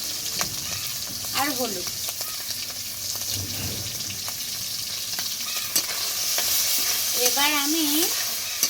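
Prawns frying and being stirred in a pan with cumin and turmeric for a Bengali prawn and water spinach dish, steady sizzle with scraping stir strokes, while someone talks over the cooking.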